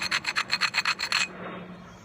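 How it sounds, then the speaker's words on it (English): Stone ground laterally along a flake edge during direct percussion knapping, with about nine quick rhythmic rasping strokes, close and fairly loud, then a short fading scrape into quiet. "then you can flip it and bring it back down, and then laterally grind it"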